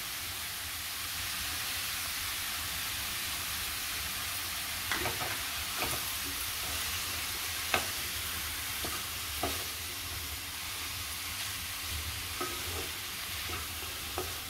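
Button mushrooms for mushroom masala sautéing in a pan, a steady low sizzle running throughout with a few soft spatula clicks and scrapes scattered across it, no voices.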